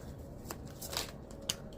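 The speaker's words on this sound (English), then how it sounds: "I shuffle my cards" Tarot cards being shuffled by hand, soft papery riffles and brushing strokes in quick bursts with a sharper flick near the end, close and fairly quiet, no talking.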